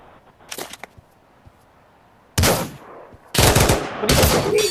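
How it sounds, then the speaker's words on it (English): Bursts of Pavlov VR gunfire on Quest: a short burst early, then two loud sustained volleys of rapid shots close up, separated by a brief lull. "Detective, I heard gunfire."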